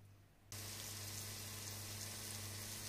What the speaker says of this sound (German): Ungefähr 3 Minuten bei mittlerer Hitze auf beiden Seiten anbraten, bis es schön knusprig ist.